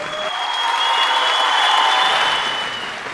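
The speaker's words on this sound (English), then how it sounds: "Graduates, give yourselves a resounding applause." Graduates at a graduation ceremony applaud themselves in a loud, full burst of crowd clapping that swells and holds, then eases slightly toward the end, with a steady tone ringing through a reverberant hall.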